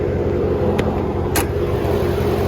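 A fifth-generation Ram 1500 half-ton pickup with a Hemi V8 drives with a loud, steady, harmonic engine drone. Two brief clicks sound over it in the short stretch.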